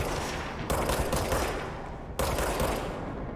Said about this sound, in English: Who's throwing grenades?